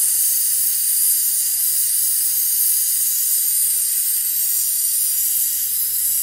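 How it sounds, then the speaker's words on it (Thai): Oil vapor and refrigerant hiss steadily out of a clear-lid meat and ice cream chest freezer's cooling system during a flush and recharge, a loud, continuous, sharp hiss with no talk. "มันเป็นไอน้ำมันบวกกับน้ำยานะครับ"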